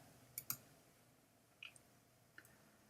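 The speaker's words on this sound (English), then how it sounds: "I'm going to click on that." A few soft computer mouse clicks, sharp and very brief, three or four in all, spaced out against near silence.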